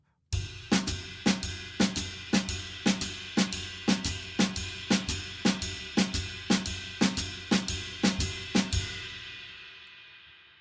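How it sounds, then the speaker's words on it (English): A drum kit keeps a steady big band backward shuffle groove with regular snare backbeats and ringing cymbal, then stops and the final hit fades out. "The last exercise is playing a kind of what is known as a backward shuffle."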